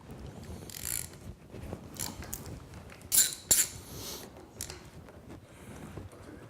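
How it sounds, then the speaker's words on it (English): Crankshaft pulley being removed from an engine: quiet metallic clinks, scrapes and a couple of sharper ratchet-like clicks from tools and parts, sparse and close, with no talking. "To remove the crankshaft pulley,"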